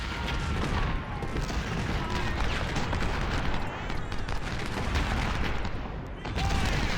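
Artillery fire in a Civil War video game battle: a dense, continuous roar of cannon and musket fire with rumbling booms, loud and unbroken, under a talking voice.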